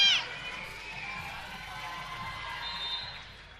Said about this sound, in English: Hearing it from the crowd.